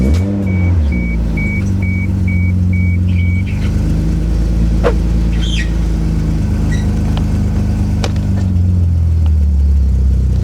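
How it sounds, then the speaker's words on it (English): A Toyota Supra fitted with a BMW-style widebody and race vents starts up and runs, its engine holding a steady, slightly rough and uneven low drone for the whole stretch, loud and close, with faint clicks and rattles over it. "the car sounds like it's dying"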